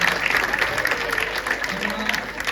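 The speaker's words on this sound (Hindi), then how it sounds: "जोरदार तालियां अपने लिए बजा दीजिए" Audience at an academy event on stage clapping loudly together, a dense, steady burst of applause filling the room for a couple of seconds.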